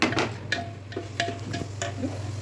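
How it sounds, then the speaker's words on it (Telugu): Onions, curry leaves and cashews frying in a pan, a soft sizzle under a low hum with repeated light scraping and clicking stirs. "వేగినాయి, కరివేపాకు బాగా జీడిపప్పులు బాగా వేగిపోయింది"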